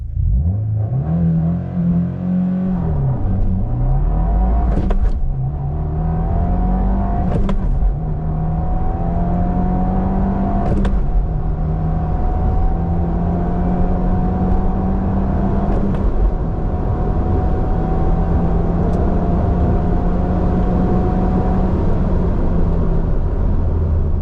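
A 2024 Subaru WRX with a manual gearbox is held at high revs, then launches off the line and pulls hard through the gears. The loud engine climbs in pitch, with sharp breaks at each shift, then drones on steadily.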